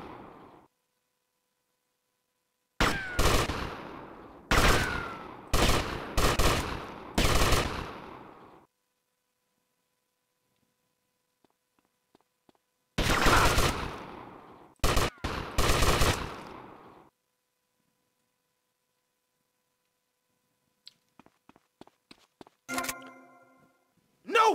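Machine-gun fire in GTA Vice City comes in loud rapid bursts separated by long silences. The clip opens with several clustered volleys, fires again in the middle, and ends with a few quieter, scattered shots.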